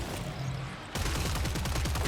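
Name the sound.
AK and SCAR gunfire in the video game Killing Floor 3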